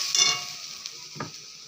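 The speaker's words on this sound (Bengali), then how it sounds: "এবার নাড়াচাড়া দিতেই হবে" Ground spices frying in a pan, a light sizzle under a couple of brief metallic stirring scrapes and clinks, fairly quiet, no talking.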